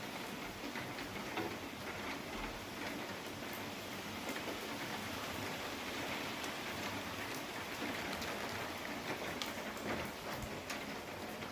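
Steady heavy rain pours down outdoors near a garden with squash plants, a dense continuous hiss with scattered drop ticks and patters throughout, alone with no voices.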